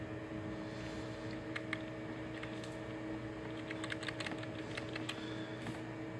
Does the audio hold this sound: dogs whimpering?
no